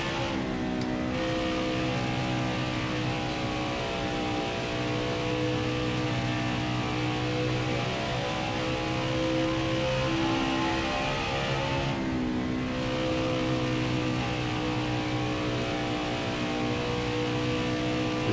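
A NASCAR Xfinity race car in NASCAR Heat 5 drones steadily around Dover during a lap, its engine note loud and continuous with slight pitch rises and dips, and a brief dip near the end of a straight.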